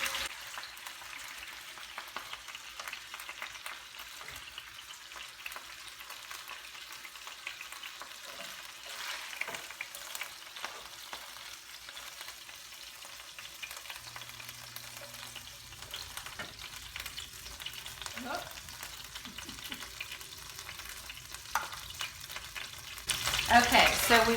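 Pork chops frying in a pan give a steady, close sizzle with scattered crackles and pops, continuous throughout and growing a little louder near the end.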